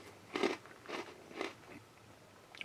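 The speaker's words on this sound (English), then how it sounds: "Those are good. They're crunchy." Crunching on nacho cheese pretzels from a 2012 US MRE, Menu 8: three distinct crisp bites about half a second apart, close to the mic, followed by quieter chewing.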